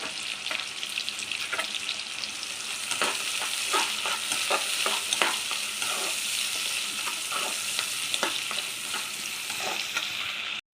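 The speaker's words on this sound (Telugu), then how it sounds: "ఇలా ఆనియన్స్ లైట్గా ఫ్రై చేసుకోవాలండి," Sliced onions fry lightly in hot ghee for a dal tadka, a steady close sizzle with intermittent stirring clicks and scrapes throughout, no voices.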